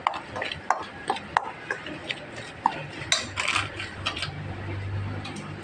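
Jalebi batter with a little cornflour being mixed in a bowl, a spoon tapping and scraping the bowl's sides in irregular clinks and taps over a soft stirring rustle, close and moderately quiet.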